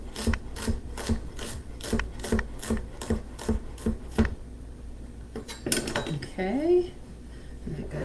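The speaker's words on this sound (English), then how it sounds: "I'm going to cut that and then just slice it into small little slices" A kitchen knife slices a vegetable into small pieces on a cutting board for a light Irish dish: a quick, even run of about a dozen crisp strokes, then a few scattered clatters and scrapes.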